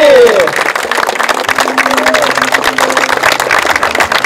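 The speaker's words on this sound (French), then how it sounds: "On va les applaudir bien fort." Spectators at a women's doubles pétanque championship in Gruissan clap steadily for the players, while an announcer keeps talking over the applause.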